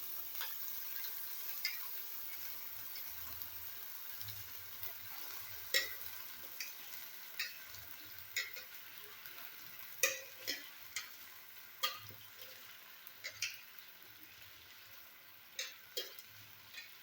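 Raw rice being stirred in a pot with three cinnamon sticks and two cardamom pods for pulao, giving a soft, steady scraping hiss with scattered sharp clicks and ticks of grains and spoon against the pot, no talking.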